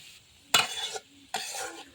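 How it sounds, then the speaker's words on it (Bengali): A spatula stirs turmeric into bitter gourd frying in a pan, making two close scraping strokes over a light sizzle, with no talk. "ভালোভাবে হলুদটাকে এর সাথে মিশিয়ে দিতে হবে নেড়ে চেড়ে"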